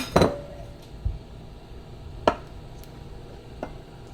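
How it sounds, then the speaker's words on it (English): A knife cutting a hard-boiled egg into rounds on a cutting mat, giving three or four sharp, close taps spaced about a second apart over a quiet background. "You put your egg down and just cut into little rounds"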